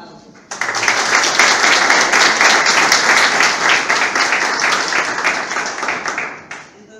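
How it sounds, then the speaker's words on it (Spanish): Warm audience applause welcoming a speaker at an environmental education talk: a sustained, loud wash of many hands clapping that starts abruptly, holds steady for about six seconds and then fades out. "¿qué les parece si le damos la bienvenida con un caluroso aplauso?"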